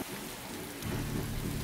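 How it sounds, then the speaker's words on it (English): Steady rain pours down on a Missouri farm, a dense close hiss of drops on surfaces that swells slightly louder partway through, with a deep low rumble underneath. "It's raining today."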